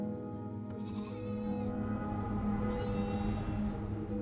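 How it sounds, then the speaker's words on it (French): Ewes gathered in a corner bleat continuously, several overlapping wavering cries layered over one another, fairly close and steady throughout. "Ulysse leur désigne les brebis rassemblées dans un coin. Elles ne cessent de bêler"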